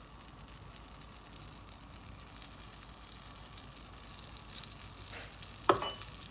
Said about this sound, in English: I'm gonna add some butter to my heated pan along with the pepper olive oil